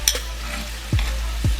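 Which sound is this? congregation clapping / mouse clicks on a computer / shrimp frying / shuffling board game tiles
shrimp frying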